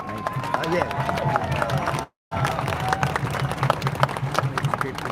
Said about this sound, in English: Big round of applause for Jo.